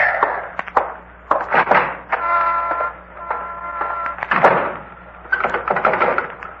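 A front door being locked gives a series of close metallic clicks and rattles from the bolt and handle, with a steady humming tone running underneath.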